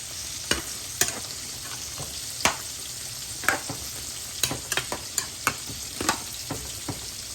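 Fish fry sizzles steadily in a pan close by, with repeated clicking and scraping taps from a spatula at an irregular rhythm and no talk.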